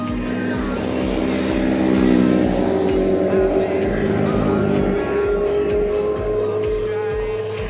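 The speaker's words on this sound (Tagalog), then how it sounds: "Dami na sasakyan sa sabungan." Cars and other vehicles pass steadily on a busy road near a cockfighting arena, with engines droning loudly and continuously and one vehicle revving as it goes by.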